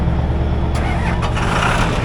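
An old scrap truck bought at a Ritchie Bros auction cranks and catches, a loud continuous low engine churn with a few sharp bursts as it fires up close by.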